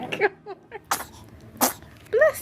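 A baby sneezes several times in short, sharp bursts spaced across a couple of seconds, close and fairly loud, with soft vocal sounds between them.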